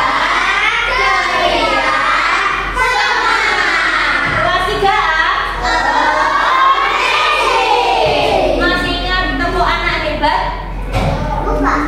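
A third-grade elementary school class in Indonesia shouts its class cheer together, a loud, dense chorus of children's voices with rhythmic bursts and claps that stays continuous throughout.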